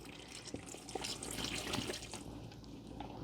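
Water poured from a small container into the tray beneath potted houseplants during a general watering, a steady trickling and splashing flow at close range that runs continuously with no talk.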